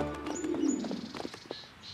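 Pigeons coo in the point-and-click adventure game Lost in Play, low rounded coos layered with light chirps over a quiet backdrop, no talking.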